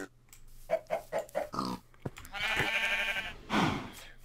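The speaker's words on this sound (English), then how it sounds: "We have 10 pigs." Pigs grunting and oinking in the block-building game Sky Factory 3, a run of short rhythmic grunts followed by a longer drawn-out squealing call and another grunt, close and clear against a quiet hum.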